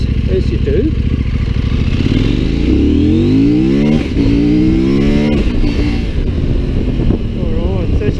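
A CF Moto MT800 Explore motorcycle accelerating hard on its rear wheel in a wheel stand, engine revving loud and close with rising pitch sweeps through the gears, heavy wind buffeting over it.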